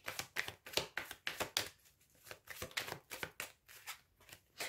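Tarot cards shuffled by hand for a card reading, a rapid series of crisp riffling and slapping bursts in a steady rhythm, close and fairly clear, with no talking.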